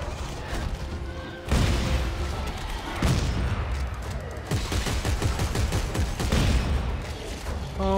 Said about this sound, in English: I love this shotgun.